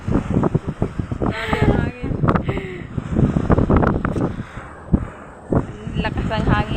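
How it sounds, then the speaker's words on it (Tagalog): Gusty wind buffets the microphone in uneven bursts while people talk loudly nearby. "Lakas ng hangin."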